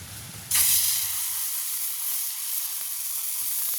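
Dosa batter hits a hot griddle stone with a sudden loud sizzle, then keeps up a steady, close frying hiss for several seconds with no voices.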